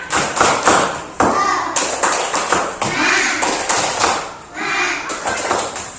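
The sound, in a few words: children clapping hands in class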